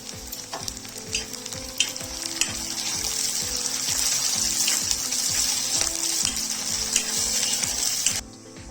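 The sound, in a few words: tempering fried with curry leaves in pan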